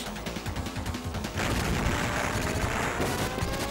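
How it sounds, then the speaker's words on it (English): Shotgun fist fire in Contra Hard Corps: a rapid, dense run of blasts that grows into a louder, steadier barrage partway through, heavy and continuous to the end. "That shotgun fist is so good."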